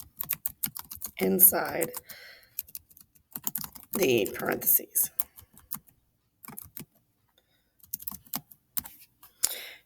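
Rapid clicking of computer keyboard typing in bursts, with a person speaking briefly in between.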